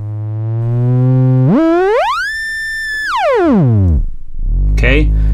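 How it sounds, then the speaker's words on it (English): A distorted tone from a Metasonix RK4 oscillator sweeps sharply up in pitch, holds high, slides back down into a deep growl, then ends in a gritty low buzz, loud and alone. "Okay, sounds really powerful and really dirty. Okay, so that's how it sounds as an oscillator."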